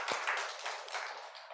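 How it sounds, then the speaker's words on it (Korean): Congregation applauding during a Sunday church worship service, a dense wash of many hands clapping together, steady and fairly faint, with no talking over it. "우리 하나님께 영광의 박수 올려드리겠습니다."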